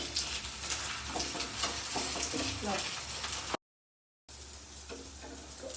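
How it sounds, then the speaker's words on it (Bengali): Sooji chilla batter sizzles and fries steadily in an oiled pan, a continuous bright crackle with soft scraping, briefly cut to silence before the frying resumes. "প্যানে চিলার মিশ্রণটা দিয়ে দিলাম।"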